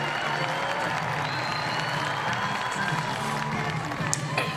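An Austrian home crowd at an outdoor athletics meeting in Innsbruck claps and cheers steadily around a women's long jump, a dense sustained wash of applause with scattered shouts and no lull.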